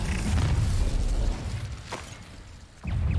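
In the Hogwarts Legacy video game, an Incendio fire spell goes off as a muffled, rumbling explosive burst over low booming game audio, which dips briefly and then surges back.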